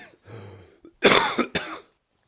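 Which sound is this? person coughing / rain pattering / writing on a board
person coughing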